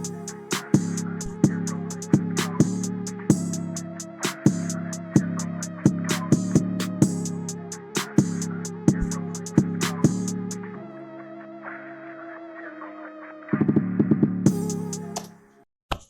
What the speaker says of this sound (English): Played around with the drums a little bit and this is what it sounds like.